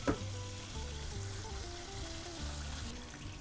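Chicken pieces for a KFC-style recipe frying in hot oil inside a basket, a steady close sizzle with soft bubbling throughout, no voices.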